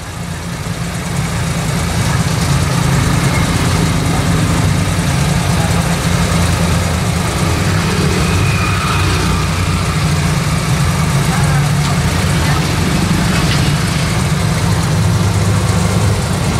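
A red van engine that is prone to stalling idles with a low, steady rumble. It swells up within the first second or two and holds constant, loud and close.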